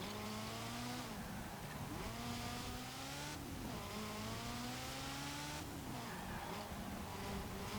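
A Ferrari F40 in Forza Horizon 4 driven hard, its engine droning loudly with repeated rising revs and gear changes, with hints of tyre squeal throughout.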